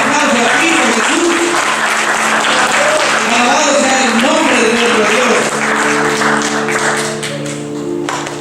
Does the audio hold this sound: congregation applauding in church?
yes